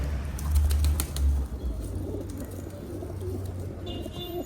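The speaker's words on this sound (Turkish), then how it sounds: "Bunlar Didim'den Sedat Gümüş'ten Ayhan Gümüş abim gelen aldıkları, almış oldukları kuşlardır." Pigeons in a loft coo and shuffle close by, with a brief flutter of wings early on and steady low cooing throughout.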